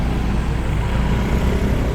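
Dense rainy-season street traffic rumbles along Jalan Bakung Sari by Kuta Square in Bali, a steady low roar of cars and engines near the listener, without voices.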